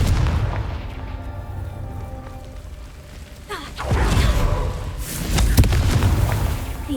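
Confringo spell explosions in Hogwarts Legacy, a couple of heavy booming blasts with a rumbling, crackling tail over continuous game ambience.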